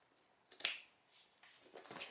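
Scissors snip the corners off stitched fabric for a camper caravan sewing project, one crisp close cut followed by a few fainter snips in an otherwise quiet room.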